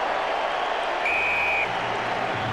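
A crowd cheers and applauds at a rugby sevens match at the London 7s in 2006, a sustained wash of clapping and roaring with a whistle-like tone partway through and a commentator's voice low underneath.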